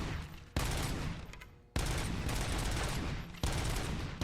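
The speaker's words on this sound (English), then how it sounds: "This is pretty much a machine gun." Pistol in RoboCop: Rogue City fired in rapid automatic streams like a machine gun, three loud sustained bursts with sharp onsets and brief gaps, close and without talk.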